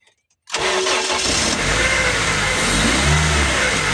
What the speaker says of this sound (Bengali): আমি আরও একবার ইঞ্জিনটি স্টার্ট করে সাউন্ড কোয়ালিটি আপনাদেরকে শোনানোর চেষ্টা করছি